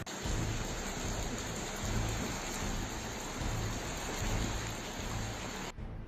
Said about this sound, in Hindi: उत्तरकाशी और टिहरी में मूसलाधार बारिश से कई जगहों पर नुकसान हुआ